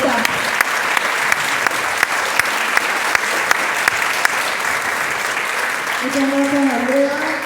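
A conference audience gives a sustained round of applause to welcome a speaker, with a few sharper claps standing out, and a voice begins talking near the end as the clapping continues.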